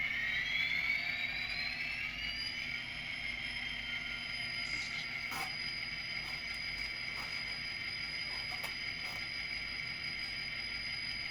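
An Atlas SD50 model diesel locomotive with a LokSound 5 decoder idling, a steady electronic engine drone with high whining tones that rise early on, joined by a few brief clicks and taps.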